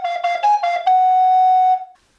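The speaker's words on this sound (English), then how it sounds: "this example just with single tonguing would sound like this" A recorder sounds a few short, separately tongued notes in quick succession, then holds one clear, steady tone before stopping, played close and alone.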